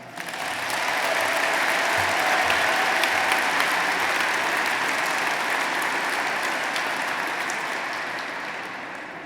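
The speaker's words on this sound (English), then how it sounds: "I hope you'll give her a round of applause" Audience applause for a speaker's wife at a Discovery Ball 2017 event, a full room clapping steadily and loudly for several seconds before fading slightly.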